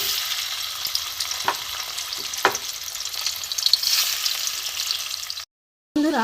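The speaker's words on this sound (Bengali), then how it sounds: "এখানে আমি মাছগুলো ভেজে নেব। কাতলা মাছের পিস ভালো করে ভাজবো।" Pieces of catla fish fry in hot oil in a heated kadai, giving a steady bright sizzle with occasional soft clinks, then a brief gap of silence before the sizzling resumes.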